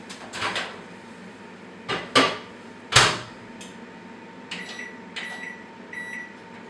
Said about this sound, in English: I'm just going to steam these potatoes in the microwave for about 6 minutes or so